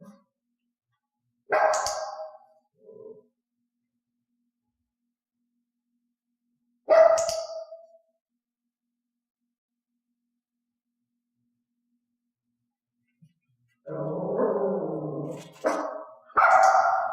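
A dog barks on cue during bark training indoors: a single sharp bark, a second bark several seconds later, then a quick cluster of barks near the end, each close and clear against silence.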